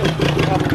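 Honda Titan 160 motorcycle engine pulling away, heard as a loud, close mid-pitched engine drone with a throbbing rhythm, brief and continuous.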